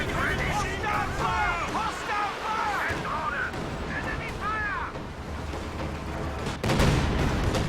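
Katyusha rocket artillery barrage in Company of Heroes 2 during a 4v4 battle: steady rumbling explosions and booms under lively talking, with a louder impact near the end.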